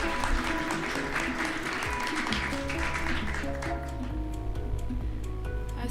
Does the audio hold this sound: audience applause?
yes